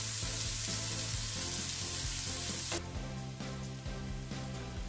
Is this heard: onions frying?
yes